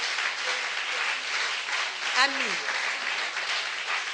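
A church congregation claps in a broad, even wash of applause honouring the word of God, with a single voice rising briefly over it midway.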